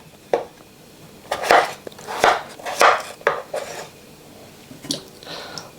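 A knife chopping potatoes into one-inch cubes for aloo gobi, six or seven sharp knocks on a board in an uneven rhythm, close and fairly loud with quiet gaps between.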